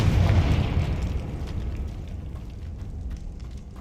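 A Confringo spell explodes in Hogwarts Legacy, a loud fiery boom with a heavy low rumble that fades over a few seconds.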